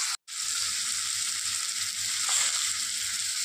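Potato pieces frying in hot oil for a Bengali potol-katla fish curry, a steady, close, dense sizzle that runs unbroken apart from one brief gap near the start, with no talking.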